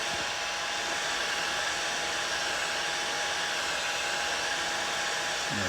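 A heat gun blows hot air onto a dented plastic car bumper, a constant close-up whooshing roar that stays steady and unbroken throughout.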